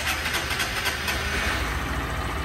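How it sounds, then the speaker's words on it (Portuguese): A motorcycle engine runs for the first time away from the dealership, giving a steady, fairly loud mechanical drone with a rough idle texture that holds throughout. "Vocês vão ver a primeira vez que essa moto vai ligar."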